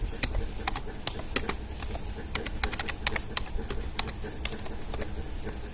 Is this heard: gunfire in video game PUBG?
no